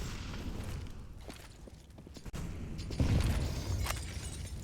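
Molotov fire grenades shattering and bursting into flame in Counter-Strike on the Inferno map, a dense muffled rumble of crackling fire and impacts with a sharp glassy pop in the middle, no voices.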